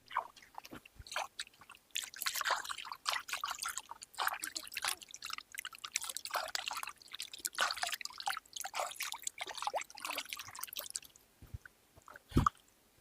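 Water trickles and splashes irregularly as hands are washed, close and fairly quiet, with dripping and squishy wet sounds throughout and no talking.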